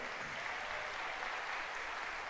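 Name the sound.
audience applause in church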